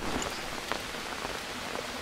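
Continuous video game rain hiss with scattered droplet patter, even and unbroken, no voices, from Green Hell.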